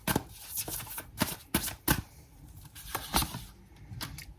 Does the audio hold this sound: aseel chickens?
no